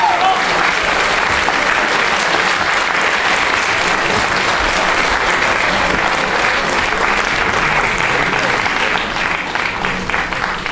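An audience gives a loud, dense round of clapping for the Pazardzhik folk ensemble at its farewell concert, holding steady for the full stretch with no voice over it.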